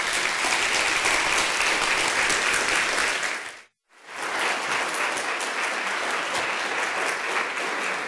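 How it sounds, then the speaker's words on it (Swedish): Conference audience gives loud, sustained applause to welcome a speaker at an event on civil society, integration and culture; dense clapping runs steadily, cuts out briefly near the middle, then resumes just as full. "En stor applåd."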